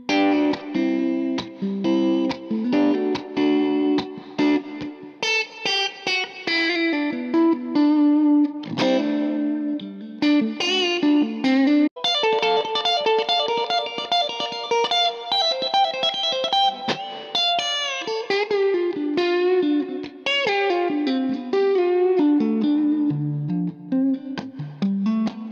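A Cort G290 FAT II electric guitar with humbuckers, switched to pickup position four, plays a clear melodic passage of picked single notes and chords with light effects, loud and close, with brief pauses between phrases.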